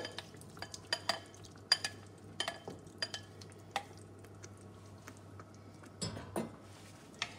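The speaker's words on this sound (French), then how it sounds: "La sauce tomate a réduit, j'incorpore les champignons" Mushrooms being stirred into reduced tomato sauce in a pan, irregular spoon taps and scrapes against the pan over a faint low simmer, quiet and close, no talking.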